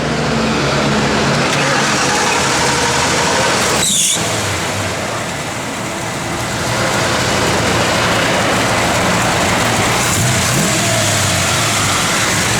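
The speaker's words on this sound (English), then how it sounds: "trucks rolling by." Heavy trucks rolling past on a nearby road, a loud, steady engine and tire rumble that fills the whole stretch, dipping slightly midway before swelling again, with no talking.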